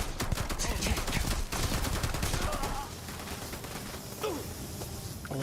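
Rapid pistol gunfire in the video game Starfield, a dense run of sharp shots for most of the stretch that thins out toward the end, loud and close with faint gasps mixed in.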